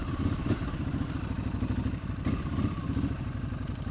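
A Ducati motorcycle engine chugs at low revs during a slow, tight U-turn with the clutch slipped, a close, steady throbbing with light mechanical clatter and small rises in revs.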